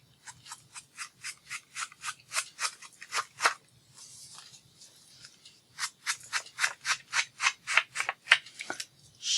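Paper scuffed with oxide sandpaper to distress it, rapid rhythmic rasping strokes in two bursts separated by a brief pause, crisp and close with no talking.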